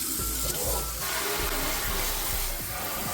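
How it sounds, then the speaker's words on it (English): Running water rinses dishes and debris down a kitchen sink, a steady broadband splashing rush that continues for about three seconds with small shifts in flow and no voices. "the first thing I'm gonna do is go through and rinse down everything in the sink"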